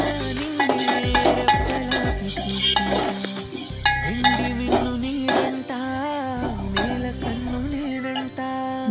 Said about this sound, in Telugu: మెంతికూర మంచిగా మగ్గిన తర్వాత కొంచెం అల్లం, పసుపు వేసి బాగా కలపాలి